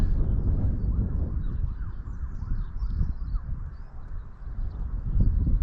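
A wailing siren rises and falls in the distance in Newport, its sweeping tone carried over a steady rumble of wind and traffic.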